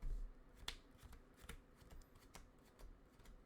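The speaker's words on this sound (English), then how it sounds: "Let's do another shuffle." Yu-Gi-Oh trading cards being shuffled by hand, a series of sharp riffling snaps and soft slides close up over about three seconds, alone without talk.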